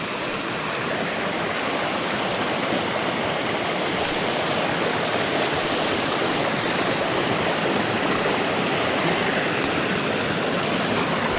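Steady rush of a stream flowing through a ravine (quebrada), a continuous broadband wash of water close by, with no talking.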